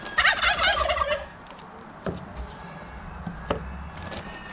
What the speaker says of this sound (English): I got the turkeys over there